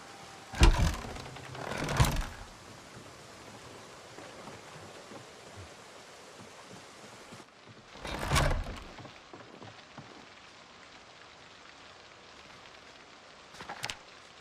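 Steady rain falling in a survival video game, a constant soft wash running through the whole stretch with a few louder bursts of splashing noise near the start and middle, heard alone.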